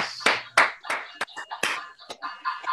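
A few hosts of an online talk show clapping, sparse, irregular hand claps spaced through the moment, close to the microphones.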